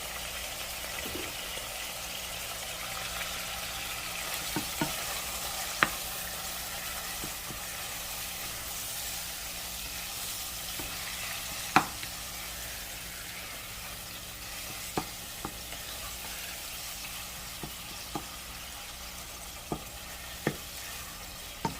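Taco meat frying in a pan with garlic and onion powder, a constant moderate sizzle with occasional sharp ticks and pops, heard alone without talk.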